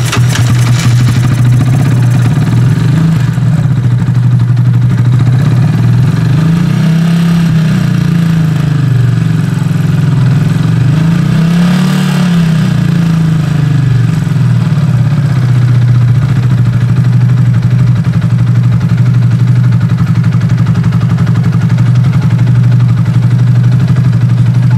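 An Italika Z-250 motorcycle with a fuel-delivery fault idles loudly and close, a steady low engine drone with a slight wavering rise and fall in its revs and no talk over it.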